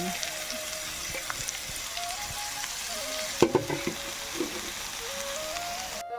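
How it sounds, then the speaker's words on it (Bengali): Onion and freshly cut flowers fry in a wok with a constant, fairly quiet crackling sizzle. A few clinks and stirring knocks sound near the middle. "কড়াতে পেঁয়াজটা একটু লাল লাল করে ভাজা হয়ে গেছে আগের থেকে কেটে রাখা ফুল দিয়ে দিচ্ছি"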